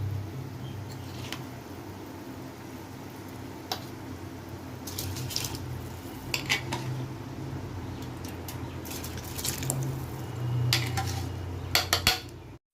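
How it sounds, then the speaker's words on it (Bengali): Rice tipped into a pot of spiced water while cooking a Kolkata-style aloo chicken egg biryani, with light clinks of metal utensils and pot scraping over a steady low kitchen hum; several sharper taps near the end, no talking. "এবার এই জলে দিয়ে দিচ্ছি এই বাটি মাপে 3 বাটি ভর্তি ভর্তি চাল নিয়েছিলাম।"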